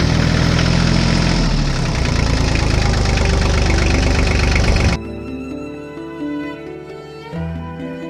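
A tractor engine in a Hindi cartoon runs with a loud, steady, rumbling drone, then drops to a lower, quieter chugging idle partway through.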